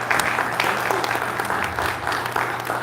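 Conference audience at a maternal and newborn health event claps in a sustained, fairly close burst of many hands, with individual claps standing out against a steady room hum.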